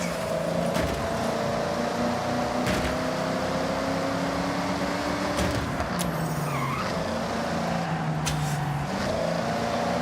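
A Plymouth Barracuda with the 426 Hemi engine, a cast-iron-block V8, drones steadily in Forza Horizon, a loud continuous engine hum with shifting pitch and occasional brief clicks, with no talking.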